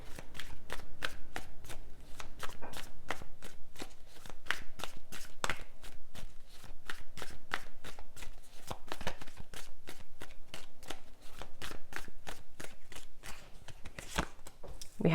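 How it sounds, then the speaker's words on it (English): Deck of tarot cards shuffled continuously, a rapid rhythmic run of crisp riffling snaps up close, loud and steady with no talking. "These cards are flying out already."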